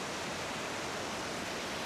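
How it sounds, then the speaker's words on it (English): A summertime waterfall near Prijepolje, Serbia rushes in a steady, dense, broadband hiss, constant and fairly even throughout with no voices. "During the rainy season, this waterfall will probably look even more impressive, because there will be more water, making it much larger"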